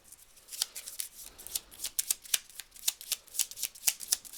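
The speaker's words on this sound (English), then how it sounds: "We're gonna pull one card" A crystal oracle card deck is handled and shuffled close up, giving a quick series of crisp, rhythmic riffling flicks at a soft level, with no voices.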